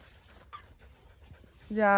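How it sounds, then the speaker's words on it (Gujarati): A farm dog whimpers with soft panting at close range, and a sustained high-pitched whine rises near the end, amid light background noise. "અમારા વાડીનું કુતરું છે અહીંયા જ રહી"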